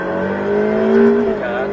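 A Ferrari F8 Tributo's engine rises steadily in pitch as it accelerates on a race circuit, heard from inside the car, loud and continuous.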